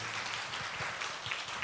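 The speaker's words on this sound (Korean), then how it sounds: "박수를 쳐주시는 것 같습니다" An audience at a parents' school lecture keeps clapping, a soft, steady, fairly distant patter with no clear talk over it.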